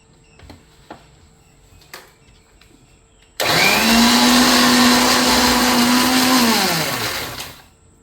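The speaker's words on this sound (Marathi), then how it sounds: "आता आपण हे मिश्रण मिक्सरला वाटून घेऊ" A kitchen mixer grinder switches on to blend a tea-and-milk mixture for paan modak, a loud steady whirring drone that runs several seconds alone before winding down.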